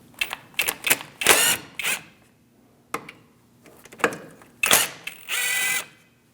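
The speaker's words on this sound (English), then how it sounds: "Using a 7mm Allen wrench, we're going to remove our slide pins." A 7mm Allen wrench works loose the front caliper slide pins on a 2000-2006 Mini Cooper, making a close series of sharp metallic clicks and short ratcheting bursts with brief pauses between them.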